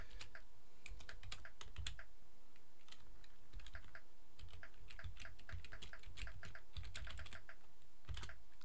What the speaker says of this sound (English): Okay, so let's go type.